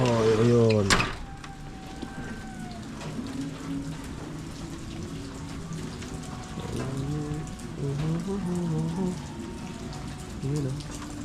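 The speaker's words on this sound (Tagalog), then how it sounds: "Pumila na ang ulan." Rain falls steadily as a continuous soft hiss on surfaces, while people talk nearby over it.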